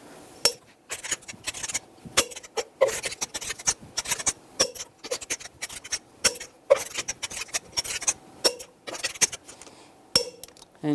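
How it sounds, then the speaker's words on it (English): A torque wrench tightens the wheel lug nuts on a Ram 1500 in a cross pattern, giving sharp, irregular metallic clicks and ratcheting taps at close range with short quiet gaps between. "Now we're going to torque these in a cross pattern to 130 foot-pounds to tighten the wheel down evenly."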